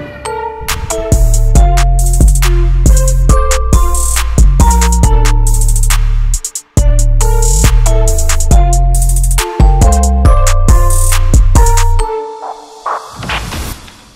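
The full beat of a song plays loud and continuous, lo-fi drums with deep bass and chiming melodic tones, a brief dropout midway, and a thinning tail.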